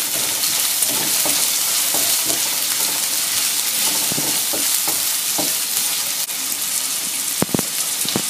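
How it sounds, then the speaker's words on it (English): Scotch bonnet pepper frying in a pan while being stirred, made for Indomie instant noodles: a steady, dense sizzle runs throughout, and scattered scrapes from the stirring utensil knock against the pan, with a couple of sharper clacks near the end. "give it a quick stir"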